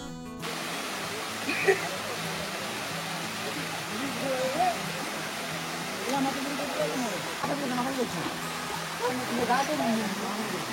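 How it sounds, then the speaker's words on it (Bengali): Water rushing down the stepped cascade of Napittachora waterfall in a hilly forest, a steady dense roar filling the whole stretch with faint scattered sounds beneath. "ক্যাসকেড হলো ঝর্ণার ধাপ"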